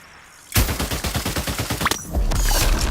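An AK rifle in a video game fires a rapid automatic burst of about a dozen close, loud shots, followed by a second sustained burst of gunfire.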